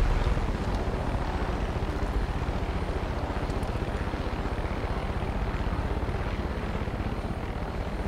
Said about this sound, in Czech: Vůbec není podezřelej ten vrtulník.